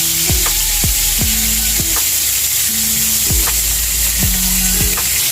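Butter melts in a hot pan for pork giniling, giving a steady, loud, close sizzle that runs unbroken throughout, with a faint repeating tonal pattern over it.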